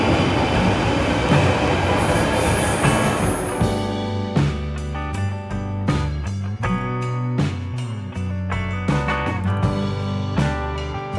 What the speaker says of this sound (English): A quick 7 stops on the Northern Line brings me to Euston Station.